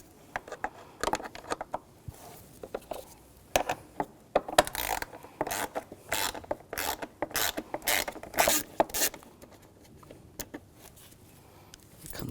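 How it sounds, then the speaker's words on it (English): Ratchet clicking in quick bursts as screws are backed out on a 2011-2018 Volkswagen Jetta during radiator and condenser fan assembly removal, close and fairly loud with short pauses between runs. "take those screws out."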